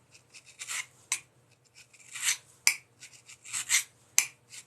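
A steel scraper's edge is rubbed across a diamond card to raise a fresh burr, giving a series of short, crisp rasping strokes at irregular intervals, close and fairly quiet.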